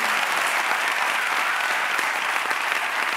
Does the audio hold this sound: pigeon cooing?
no